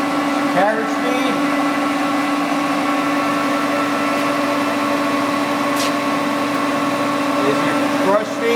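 A Leblond 15" x 54" servo shift lathe runs at 654 RPM with the carriage feeding, giving a loud, steady mechanical whine and hum with strong sustained tones. Brief voice sounds come near the start and end.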